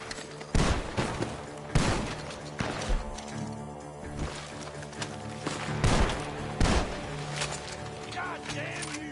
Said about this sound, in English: The gunshots are coming from that barn.